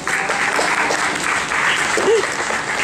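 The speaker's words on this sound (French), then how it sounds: "Alors, bonne main d'applaudissement, mesdames et messieurs." An audience claps in loud, sustained applause, a dense and steady wash of many hands that fills the whole stretch.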